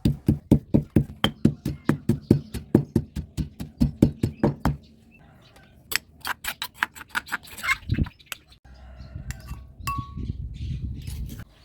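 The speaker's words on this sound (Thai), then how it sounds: "เสร็จแล้วนำกระเทียมไทยประมาณ 4 หัว ใส่ลงไปตามรวมกับพริกไทยเลยครับ" Peppercorns and about four heads of Thai garlic pounded together in a mortar: a loud, steady run of rhythmic thuds for about five seconds. Scattered clinks and knocks and a softer rustling bed of kitchen handling follow.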